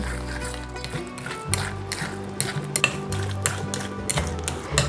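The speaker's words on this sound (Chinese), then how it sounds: "把所有调味料搅匀" A utensil stirs vegan oyster sauce, sugar and white pepper together, making quick, rhythmic clinks and scrapes against the dish, close up and continuous.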